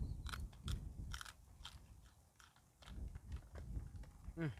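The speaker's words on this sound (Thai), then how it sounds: "เดี๋ยวกัดมันก่อน" Someone bites into and chews a foraged plant outdoors, with several crisp crunching bites followed by softer chewing, close and fairly quiet.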